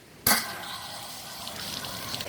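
Coolant bursts out of an engine's rear core plug hole with a sudden splash, then pours in a steady close liquid stream, alone.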